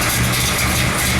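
A gasser car engine idles steadily up close, a constant loud low rumble with no variation in pitch.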